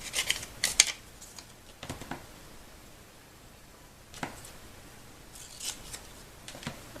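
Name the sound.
scissors cutting a Post-it note to width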